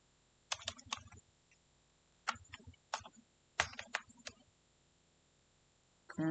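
Keys clatter on a computer keyboard in short bursts of rapid taps, separated by pauses, close and fairly quiet in a still room, while text is typed into Photoshop.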